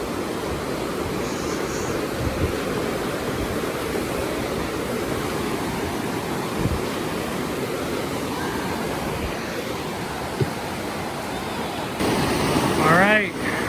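The Suiattle River rushes past up close in a dense, steady roar of flowing water, with a brief louder disturbance near the end.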